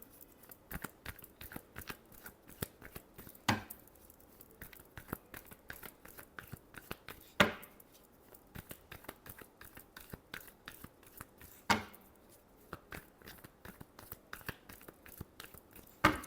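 Tarot cards being shuffled by hand: a steady run of crisp, close papery snaps and clicks, with louder riffle bursts roughly every four seconds and no voices.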